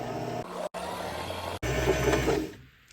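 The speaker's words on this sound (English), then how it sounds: "Then I'll simply press the pedal and the bobbin will wind." A sewing machine winding a bobbin, giving a close, steady mechanical whir that briefly cuts out twice before running on and fading.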